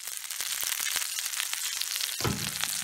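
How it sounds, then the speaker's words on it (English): Chicken sizzles in a covered pan on an RV stove, a steady bright frying hiss that runs throughout, with a small clatter of a lid or utensil near the end. "so you can hear the chicken. It's still sizzling."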